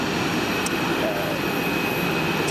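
Jet engines of aircraft heard from the observation deck at Zurich Airport, a loud continuous broadband roar with a faint whine, with a voice speaking over it.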